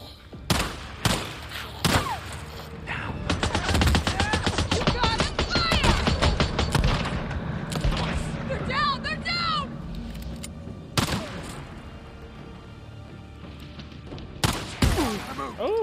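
Shotgun fire from the Days Gone video game, in a sawmill horde fight, booms in scattered heavy blasts with an echoing tail. Someone talks excitedly through the middle stretch between the shots.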